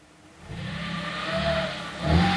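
A 3.0 TFSI engine in a high-mileage Audi S4, about 166,000 km, revs up steadily from idle, building in loudness and surging to a sharper peak near the end, heard close with no talk.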